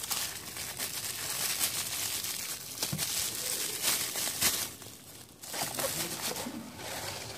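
An Air Nesco NP 742 nail gun being unboxed from a bubble bag, with close crinkling and rustling of plastic in irregular bursts and brief pauses.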